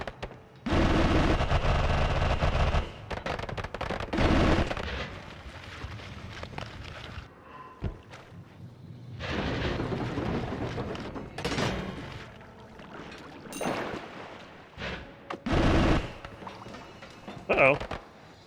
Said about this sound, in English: This place is all about the explosions.